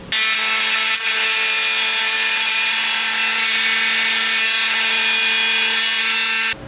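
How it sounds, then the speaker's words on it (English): A power saw cuts small walnut pieces for wooden rings: a loud, steady, high-pitched whine with strong tonal harmonics that runs continuously and alone, with a brief dip near the start. "We got those tiny walnut pieces cut."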